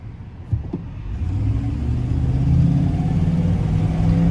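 A Dodge pickup engine is revved at full throttle. A low rumble climbs into a sustained, throaty roar that holds steady and close, with a couple of small clicks at the start.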